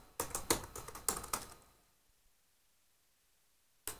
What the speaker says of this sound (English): If I can type it.